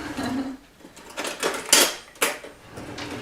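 A spoon clinks and scrapes against a bowl while mixing falafel bean batter with baking powder, giving several irregular sharp metallic knocks and scrapes up close, with no talking.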